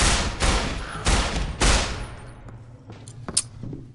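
Gunfire in the video game Estranged Act I: four loud, booming shots about half a second apart, then fading echoes and a few sharp clicks.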